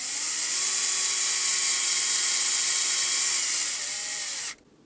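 A power driver runs button head screws into the chassis of a Tamiya TB EVO. 6 RC car, one sustained high motor whine held for several seconds close by, then cut off abruptly.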